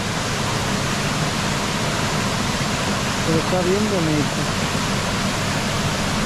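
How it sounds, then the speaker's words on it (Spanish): A rain-swollen, muddy countryside stream rushes steadily as a broad, constant wash of water noise, with a person speaking briefly over it partway through. "El arroyo."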